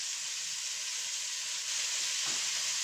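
Carrots and meat laid straight into a hot pan for a tajine give a steady, soft broadband sizzle throughout, with a brief faint knock near the end.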